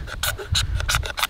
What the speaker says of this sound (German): Mit dem Klingenrücken oder mit dem Sägerücken von einem Victorinox oder irgendeiner anderen scharfen Kante arbeitest du diese kleinen,